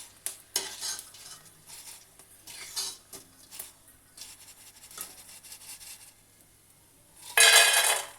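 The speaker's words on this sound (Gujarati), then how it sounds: "હવે આપણે આ રીતે બધા ગુંદરને પહેલાં તળી લઈએ" Edible gum (gond) frying in hot oil, a crackling sizzle punctuated by stirring and scraping in the pan, building to a loud, dense hiss of bubbling near the end.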